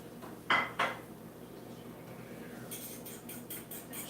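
A whisk or fork beats eggs in a bowl for French toast, heard as two sharp clinks against the dish followed by a run of quick, light rhythmic tapping strokes, close and without speech.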